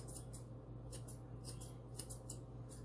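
Scissors snip repeatedly in a quick, steady rhythm through a Standard Poodle puppy's hair, close and crisp against a low background hum.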